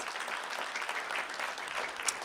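Audience applause at a school district board of trustees meeting, honoring a high school robotics team: steady, dense clapping from a room of people, fairly even in loudness, with one sharper clap standing out near the end.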